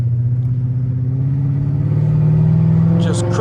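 A Chrysler 300C engine running through its gears with paddle shifters, a loud, steady mid-pitched drone that rises slightly in pitch, with a voice speaking briefly near the end.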